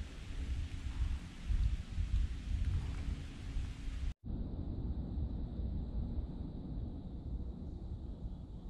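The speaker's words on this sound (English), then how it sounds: "But rain is definitely moving in" Steady rain hisses with a low rumble at a campsite in Myre-Big Island State Park, Minnesota, cut by an abrupt break before the downpour continues at a slightly different tone.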